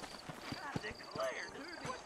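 Horses' hooves clip-clopping at a slow walk in the Red Dead Redemption game's town of New Austin, an irregular run of soft hoof knocks heard under someone talking.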